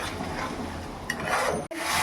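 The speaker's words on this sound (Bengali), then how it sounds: "এই আলুগুলো দিয়ে এবার আমি একসঙ্গে আস্তে আস্তে আবার একটু কষাতে থাকবো মশলাটা" Spice paste with potatoes is stirred and sautéed in a pan, a soft scraping and rustling with low sizzle, a small metallic clink midway and a brief cut near the end.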